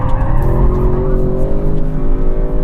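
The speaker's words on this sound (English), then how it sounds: "coming around this roundabout, you know the car's got a lot more to it, because there are cars that can do much higher G's around here, but the tires just scream bloody murder" A 2021 Audi RS6 Avant's tires squeal loudly and continuously as the car corners hard around a roundabout, the sustained screech riding over heavy engine and road rumble.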